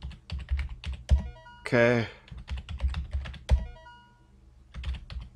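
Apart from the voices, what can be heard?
computer keyboard typing while playing Digidream 1989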